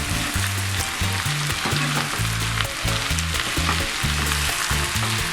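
Mushrooms sizzle and fry steadily in a pan for a creamy mushroom sauce, making a loud, continuous crackling hiss with no pauses and no talk.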